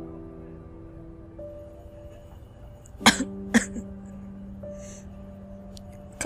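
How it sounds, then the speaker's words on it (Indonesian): Two or three small, sharp coughs and a throat clearing come close and fairly loud, breaking a quiet backdrop of soft sustained tones. "diselingi batuk-batuk kecil yang mulai menjadi latarnya"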